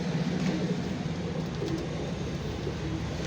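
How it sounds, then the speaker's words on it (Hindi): Pigeons in a pet shop coo and shuffle steadily at close range, a dense low murmur of several birds with no talking over it. "ऊपर वाले खाने में बहुत ही कम गिने चुने 4 कबूतर रह गए हैं।"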